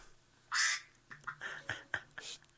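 A duck quacks: one long nasal call, then a quick run of shorter quacks, fairly faint and with no speech over them.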